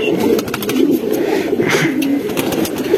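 Breeder pigeons at Hemayetpur coo steadily and close by, a low, throaty, rolling murmur that carries on throughout without any talk.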